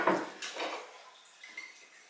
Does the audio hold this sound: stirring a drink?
yes